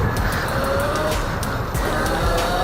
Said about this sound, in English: Let's see if we can wheelie this though.